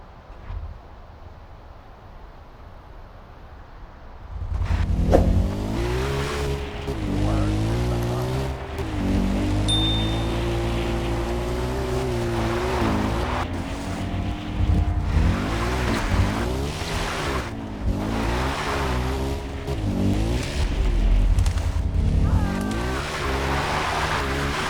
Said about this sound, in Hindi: तो अभी हम ये बाइक यूज़ करेंगे।